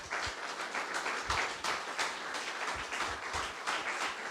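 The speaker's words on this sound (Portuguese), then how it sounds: "Aplauda o Senhor Jesus." A church congregation applauds together in sustained, dense clapping that stays steady and fairly loud throughout, with no one speaking over it.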